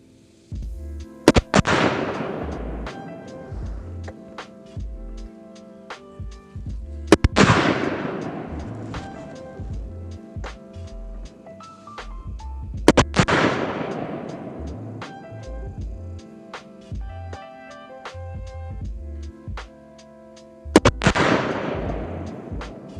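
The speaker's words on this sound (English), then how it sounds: "after he shot his 5 rounds kneeling supported" M4 rifle fired from a kneeling supported position on an army qualification range: four sharp, loud gunshots spaced several seconds apart, each with a ringing echo trailing off, and no talking.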